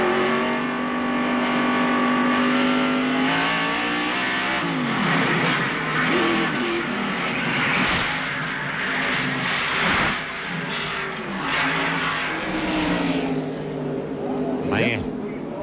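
A 1995 NASCAR Winston Cup stock car at Darlington Raceway roars loudly throughout from an in-car camera, the engine note rising and falling through shifts and laps, with commentators talking over it.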